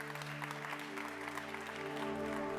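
Applause from the audience at the Digitale Leute Summit 24 greets the keynote speaker, Matthew Skelton, as he takes the stage. It is a steady, moderate clapping wash with a sustained music bed underneath.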